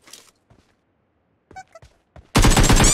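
Gunfire in PUBG Mobile: after a few scattered quiet clicks and blips, a loud, dense burst of rapid shots starts abruptly near the end and continues without a break.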